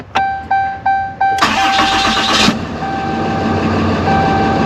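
A 2017 Dodge Ram 2500 pickup truck: a few evenly spaced warning chimes, then the engine cranks briefly and catches, settling into a loud, steady idle up close.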